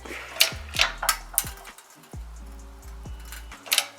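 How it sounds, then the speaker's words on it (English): Wood cracks under strain in several sharp, irregular snaps and creaks, with quieter pauses between them. "I hear some wood cracking."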